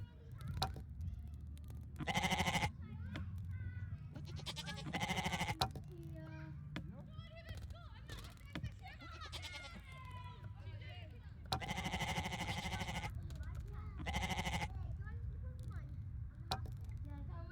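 Sheep bleat in several loud, wavering bursts spread across the clip, over a steady low rumble with people talking nearby.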